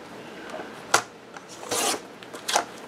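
A piece of cardboard is trimmed to cut off its flaps, giving soft, scattered rasping cuts and scrapes, with a few louder strokes, close and quiet, with no talking.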